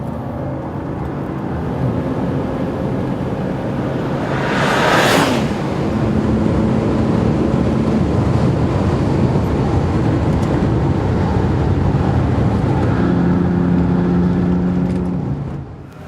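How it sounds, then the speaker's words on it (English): A Bentley Continental Supersports with a quick-shift gearbox is driven hard around the Nurburgring, its engine a loud, sustained roar that rises and holds as it pulls through the gears, with road and wind noise underneath. "we've got this quick shift gearbox on this, so it allows us to really upshift quickly"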